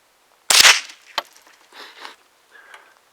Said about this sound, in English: Now, let's shoot this one with the Henry.